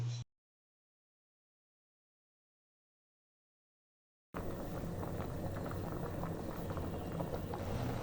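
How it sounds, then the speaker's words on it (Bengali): Rice boiling uncovered in a pot of water over a medium flame for Bengali-style bosha bhat, a steady close bubbling and popping that starts after a silent gap and continues unbroken to the end. "আমার ভাতটা প্রায় হয়ে গিয়েছে, নিচে পুটপুট শব্দ হচ্ছে।"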